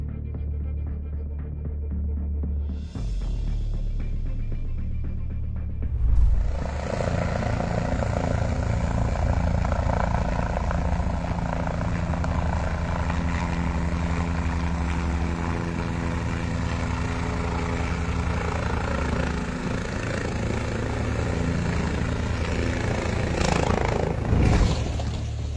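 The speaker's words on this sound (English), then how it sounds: "a helicopter plunged into Erhai Lake in Dali City," A helicopter that plunged into Erhai Lake in Dali City, Yunnan, China: a steady, loud rotor and engine drone with throbbing low-end pulses, rising in intensity after a quiet start and holding continuously near the listener.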